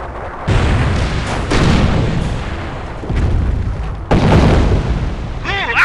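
Heavy artillery barrage in the World War II strategy game Company of Heroes, a series of loud, close booming blasts with rumbling tails, one after another, with voices calling out between them.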